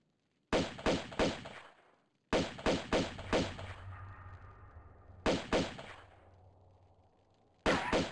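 Rapid volleys of loud gunfire in the video game Tomb Raider 2, several shots per burst separated by short pauses, with a reverberant tail after each volley and no talk.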